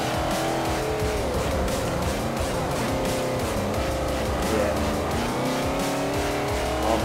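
A German race car in Forza Motorsport 4 howls through the gears under sustained load, its engine note rising and falling continuously, with squealing tires and skids layered over the steady loud racing noise.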